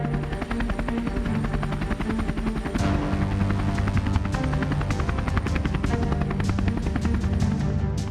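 Rudra military attack helicopter flying overhead, a loud, steady rotor thump and turbine roar that holds throughout, with a brief surge near the middle, no voices.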